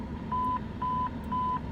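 A dispatch supervisor's radio sends three evenly spaced steady electronic beeps over a police dispatch channel, each lasting about a quarter second, clear against a constant background hiss.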